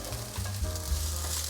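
Sliced okra and finely cut carrot are stir-fried in a pan, giving a continuous close sizzle and a soft scraping stir.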